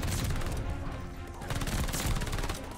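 A PPSh submachine gun fires in Call of Duty: Vanguard in rapid, dense bursts of crackling shots that run almost continuously, with brief gaps, over busy game noise.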